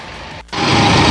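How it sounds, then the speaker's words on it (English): The Caterpillar C4.4 Perkins diesel engine of a Bandit Intimidator 12XP wood chipper roars steadily up close; it dips briefly and then comes back louder and rougher. "Let's fire up the engine."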